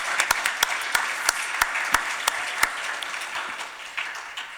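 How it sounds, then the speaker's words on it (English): Audience applause for a show's producers, with a few sharp, distinct claps standing out in front of a softer crowd of clapping that gradually thins toward the end. "let's give them a round of applause"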